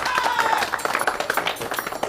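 A hall audience applauds to welcome a man named Sultan, with dense, steady clapping that fills the moment and voices mixed in.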